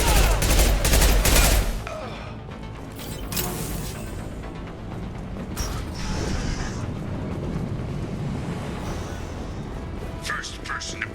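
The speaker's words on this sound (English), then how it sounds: "Firing concussive shots!" Concussive shots firing in Mass Effect 2 combat, heavy bursts of gunfire and blasts, loudest in the first two seconds, then continuing under mechanical clatter and game voices for the rest of the stretch.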